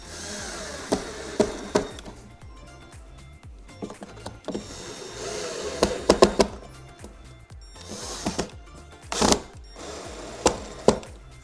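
Screws are driven in to fix the front bumper onto a kids' Can-Am Outlander ride-on ATV, giving repeated short bursts of a powered driver with sharp clicks and pauses between screws, close up and without talk.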